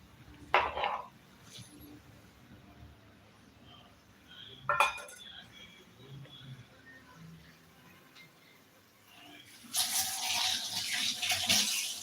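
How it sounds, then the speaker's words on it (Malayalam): Tamarind water poured into a cooking pot while a chicken fry dish is prepared, heard as a brief watery splash near the start and another midway, then a longer rushing pour toward the end over quiet kitchen background. "നമുക്ക് ഈ പുളി ഒന്ന് ഒഴിച്ചു കൊടുക്കാം"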